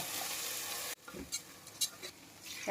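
Biryani rice is stirred in a sizzling pan for potato rice. A steady quiet hiss gives way to soft scraping and stirring with a few brighter clinks of the spoon, and no voices.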